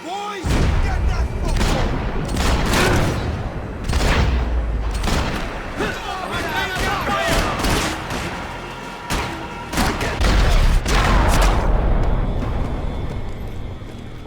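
Heavy gunfire from a firefight in the Max Payne 3 video game, with dense bursts of shots, booms and loud rapid fire running almost continuously, punctuated by sharp impacts and shouted voices.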